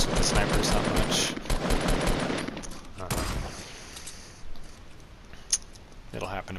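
In a first-person video game, several sharp gunshots crack in quick succession near the start, one solid shot lands around midway and a few fainter ones follow, with talk running over them.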